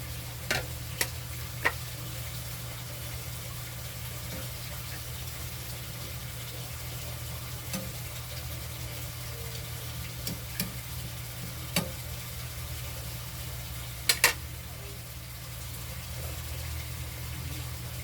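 Sweet potato tops being stirred and sautéed in a pan, a steady low sizzle running throughout with scattered sharp utensil clicks and taps against the pan; no talking.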